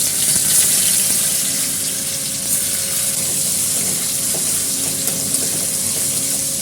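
Tomato frying in mustard oil in a wok with whole cumin and bay leaves, a steady close hiss and crackle running throughout without pause.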